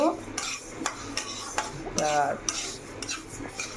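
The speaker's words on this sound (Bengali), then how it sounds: "প্রথমে দেখো চালটাকে ডালটাকে সরি ডালটাকে ভেজে নিচ্ছি" Dal (lentils) dry-frying in a pan for khichuri, stirred with a utensil that clinks and scrapes against the metal in repeated close strokes over a faint sizzle, without speech.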